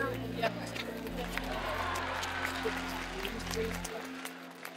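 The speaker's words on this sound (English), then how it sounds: "Just go give them a clap, thank them for coming" Liverpool FC Women players clap for their supporters at a football match, scattered applause under close-by talk and crowd babble, with a low steady hum beneath that cuts out near the end.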